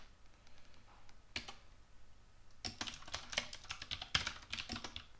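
Typing on a computer keyboard while entering Common Lisp code for a tic-tac-toe program: a few isolated keystrokes, then a dense run of rapid, crisp, close clicks with short pauses.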